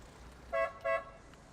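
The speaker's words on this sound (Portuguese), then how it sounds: "a buzina que eu achei interessante, é uma buzina de outra época" Two short, blaring honks from the original horn of a 34-year-old Porsche 911 Carrera 4 Cabriolet in quick succession, slightly distant over a quiet background.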